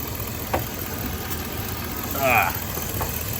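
A Chevrolet GMT800 truck engine idles with a steady, even rumble that holds throughout, with a few faint clicks and a brief rise partway through.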